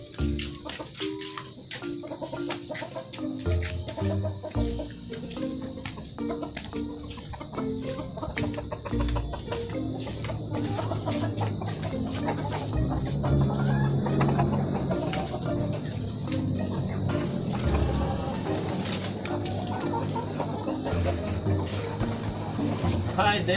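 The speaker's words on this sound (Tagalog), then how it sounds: "oras na para magpakain ng mga manok" Free-range chickens cluck and chatter continuously in the background while a person talks over them and music plays.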